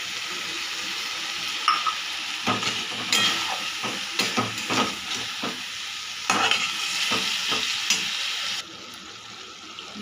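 Water poured into a pan of frying banana flower curry, with sizzling and stirring scrapes that rise and fall in short bursts, close and fairly loud, no talking.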